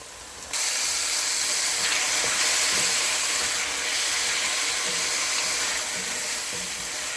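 Tomatoes hit a pan of onions already fried light golden for chicken biryani, and a steady, fairly loud frying hiss starts abruptly, then carries on evenly.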